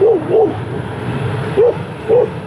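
A little dog chasing a bicycle gives four short, sharp barks in two spaced pairs, heard over steady wind and rolling road noise from the moving bike.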